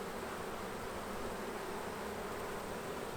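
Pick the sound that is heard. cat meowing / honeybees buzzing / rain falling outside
honeybees buzzing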